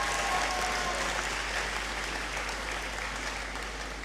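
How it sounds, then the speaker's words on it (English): Applause rises from the audience in a great hall at a university congregation ceremony, a sustained wash of many hands clapping, moderately distant and easing slightly toward the end. "I believe she deserves another round of applause"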